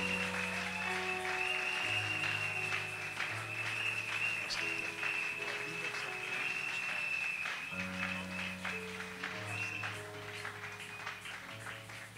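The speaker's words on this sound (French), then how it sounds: "Alors, sous vos acclamations, nous nous mettons debout et nous accueillons le docteur Bahati Salomo." A standing audience applauds steadily to welcome a guest at the closing ceremony of COTEFI 2022, the dense clapping running throughout over sustained keyboard music, with no speech.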